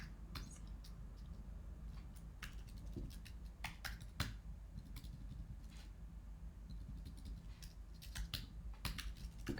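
Rapid keystrokes on a computer keyboard as a shell command is typed into a terminal, steady clicking taps with a few sharper key strikes, close and clear with no talking.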